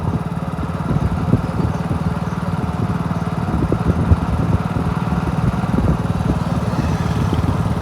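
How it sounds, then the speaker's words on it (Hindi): A motorcycle engine drones steadily while riding, with a dense low throb running close and loud throughout and no pauses. "बाइक चलाने में जो मज़ा कहीं भी ना"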